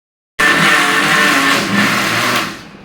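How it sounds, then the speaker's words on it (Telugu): A mixer grinder blending chutney starts abruptly and whirs loudly at a steady high pitch, then winds down near the end. "టేస్ట్కి సరిపడా ఉప్పు వేసుకుని మిక్సీ పట్టేస్తాను"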